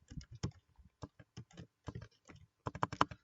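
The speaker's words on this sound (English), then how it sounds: "I have a hard time hitting keys today for some reason." Keys tapped on a computer keyboard in short irregular bursts of clicks, close and fairly quiet, with small pauses between runs of strokes and no voices.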